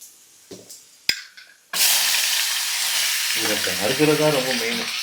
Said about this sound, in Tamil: கடுகு இன்னும் கொஞ்சம் லைட்டாக பொரியணும்